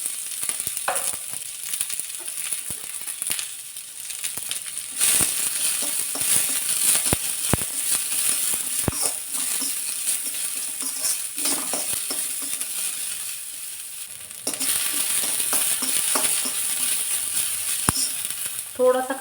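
Chopped onion frying in hot oil in a kadhai, a steady sizzle that runs throughout with occasional scrapes and taps of the stirring spoon, and a louder stretch of sizzling near the end.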